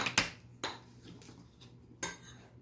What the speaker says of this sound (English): we're going to mix it around with the mayonnaise and the corn